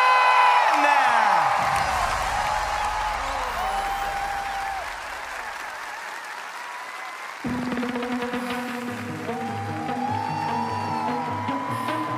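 Arena audience applauding and cheering for the Melodifestivalen winner, a loud sustained wash of clapping and whoops that settles into steady applause, with music coming in partway through.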